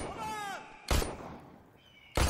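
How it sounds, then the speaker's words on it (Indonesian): Two sharp, loud gunshot-like bursts ring out in a film scene, one near the middle and one at the end, separated by quieter music and background tones with no talk. "Scene film ini menunjukkan Syam menembak ke arah Kumar"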